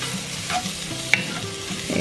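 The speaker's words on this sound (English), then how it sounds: "you can hear the ham is sizzling away" Uncured ham sizzling steadily in a frying pan with a sazon seasoning, a close crackling hiss with a couple of sharp pops and light stirring, no voices.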